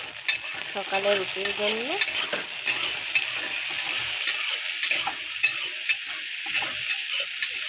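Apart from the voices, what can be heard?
tomatoes and onion frying for tomato chutney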